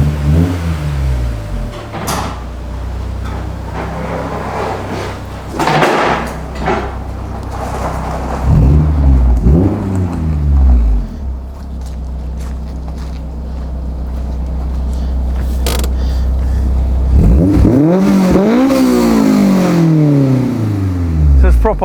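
A Honda S2000 track car's engine fires up and revs, with two sharp rising-and-falling throttle blips, the second near the end, over a steady idle and occasional speech.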